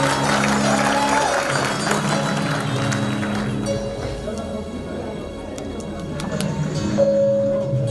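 Audience applause at a Punjabi show, sustained clapping from a crowd that holds steady for several seconds and then thins out, with a faint voice over the PA under it.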